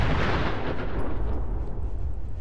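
Gunfire hits cars in Fallout 4 and sets off explosions, a dense, booming barrage that stays loud throughout the short burst, with no voices.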